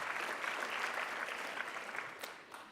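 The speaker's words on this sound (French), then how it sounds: "Je vous demande d'applaudir" A French horticulture gathering's audience applauds a federation president in the room, sustained even clapping across a hall that thins slightly toward the end.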